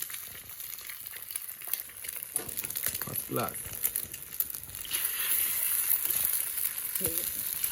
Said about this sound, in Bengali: ডিমটাকে বাটিতে না গুলিয়ে একদম ডাইরেক্ট দিয়ে দেওয়া হচ্ছে কড়াইতে